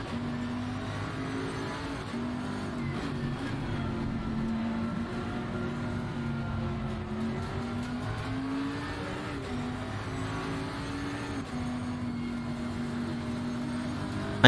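Race car engine in a sim racing game on the Zolder short circuit, a steady loud drone whose pitch rises and falls through gear changes and throttle lifts, with no talk over it.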